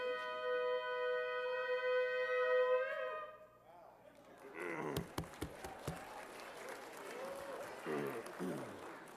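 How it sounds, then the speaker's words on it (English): A sustained, slightly wavering shofar blast at a synagogue installation ceremony ends, then a congregation breaks into applause with scattered sharp claps and a few voices talking underneath. "now it's okay to applaud for the shofar blowers"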